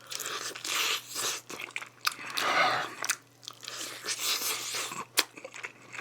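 Chili mayo fried chicken being eaten close up, crisp crunchy bites and wet chewing in irregular bursts with short pauses between mouthfuls.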